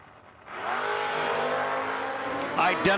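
Loud drag race cars launching and roaring down the strip at a No-Box 660 Shootout, one a Suzuki Busa-powered entry, with sustained engine howl and a brief higher whine near the end.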